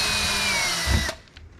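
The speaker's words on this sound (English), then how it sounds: "drill your 2 holes out" A power drill bores holes through a cabinet door for a handle: a loud, steady whirring that winds down and stops abruptly near the end, followed by a couple of faint knocks.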